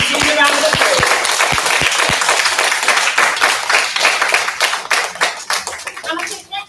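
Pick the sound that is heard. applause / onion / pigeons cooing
applause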